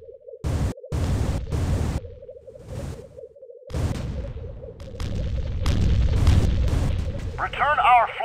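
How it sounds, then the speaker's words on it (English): An enemy turret explodes in Starsiege: Tribes amid several heavy booming blasts and rushing whooshes, with a steady engine hum and bursts of gunfire around them, while a voice speaks over the action. "Enemy turret destroyed."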